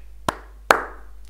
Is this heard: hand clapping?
yes